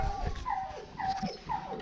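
A small dog at an animal shelter in Huanchaco, Peru gives several short, high whimpering yips with faint growls, fairly quiet and close.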